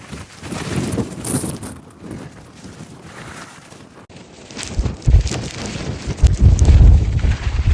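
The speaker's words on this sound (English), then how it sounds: "It's a bit windy, lad!" Gusts of a 60 mph wind storm buffet the microphone outdoors on an open path, rising and falling in loud, rumbling bursts that grow heavier toward the end, with no talk over them.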